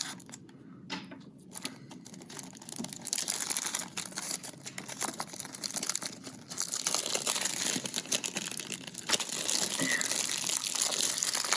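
Plastic wrap being cut and peeled off a Blu-ray case, a steady run of close crinkling and crackling with small snips and rustles, getting louder toward the end, no voices.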